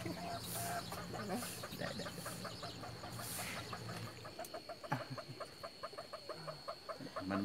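A farm chicken clucks in a rapid, repeated series of short calls, close and fairly clear over soft background noise, with faint voices in the distance.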